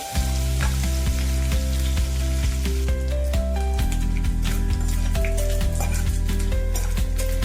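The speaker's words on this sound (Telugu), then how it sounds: "ఒక 2 నిమిషాలు వేయించుకున్నాము." Brinjal and dry fish fry in a pan with a steady close sizzle and soft stirring scrapes, heard under continuous background music.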